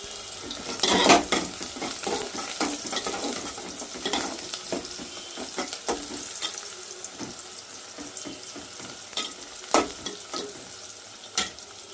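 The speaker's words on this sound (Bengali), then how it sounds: "পেঁয়াজগুলো আমি তেলের ওপর দিয়েছি, দিয়ে নাড়াচাড়া করে নিচ্ছি" Sliced onions fry in hot oil at home while a spoon stirs them, giving a continuous sizzle broken by sharp scraping and clanking against the pan. No one speaks.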